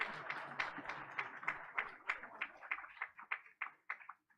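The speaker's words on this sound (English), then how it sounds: "Let's give him a round of applause." An audience at a board of education meeting claps for a police officer. The applause is moderately faint in a room and thins out into a few scattered, fading claps by the end.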